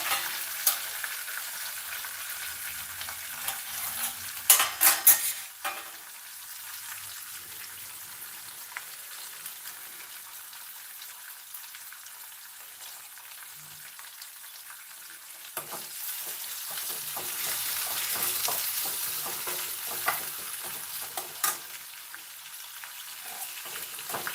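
Leftover vada batter mixed with rice, onions, green chillies and curry leaves frying in a pan, a soft steady sizzle with occasional stirring scrapes and a louder clatter early on, no talking.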